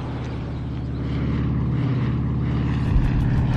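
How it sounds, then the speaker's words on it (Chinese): Kuomintang propeller aircraft drone overhead, a loud, steady, throbbing engine roar that swells slightly and holds, close and alone without voices. "国民党的飞机"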